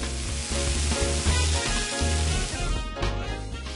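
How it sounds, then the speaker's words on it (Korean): Hand-shaped minced meat patties for Korean neobiani fry in oil in which garlic was sautéed first, giving a dense, steady sizzle close up that stays loud for the whole stretch, with no talk. "빚은 고기는 마늘을 볶은 기름에 구워주는데요."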